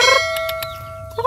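An Ayam Bangkok chicken with feathered feet gives a few short, close clucks over a sustained ringing tone, with no talk.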